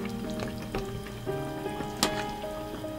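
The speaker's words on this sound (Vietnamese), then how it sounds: "Mình trộn đều lên và nếm thử lại." A spoon stirs braised pork knuckle in a pot of simmering caramelized sauce, giving soft clinks and wet sloshing strokes at an irregular pace over a low bubbling sizzle, close by.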